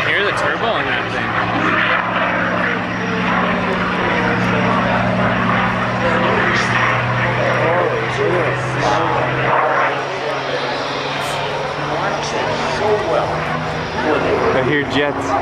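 A turbocharged aircraft engine at an airshow roars as a loud, steady droning pass that holds for several seconds, with a faint rise and fall as the plane moves overhead.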